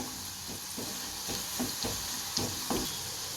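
Spices for a South Indian fish curry tempering sizzle steadily in hot oil, a continuous close frying hiss broken by several soft stirring scrapes of a spoon through the pan.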